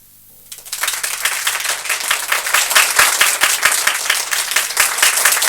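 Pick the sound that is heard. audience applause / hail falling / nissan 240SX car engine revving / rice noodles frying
audience applause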